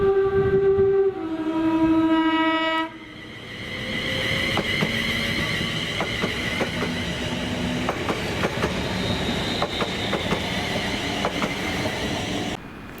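ScotRail class 380 electric train 380105 passes on a Glasgow Central service, sounding a two-tone horn before a steady rumbling run with clicking wheels on the rail joints, close and loud, with no voices.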